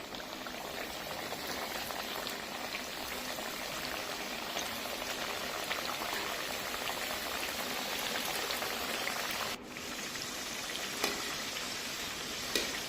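Kachoris frying in hot oil in a kadhai, a steady dense sizzle and bubbling crackle that runs unbroken throughout, close and fairly loud, with no voices.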